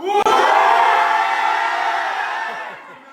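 A large crowd of fans cheers and shouts together in a loud, sustained roar that slowly fades over a few seconds, with no separate speech.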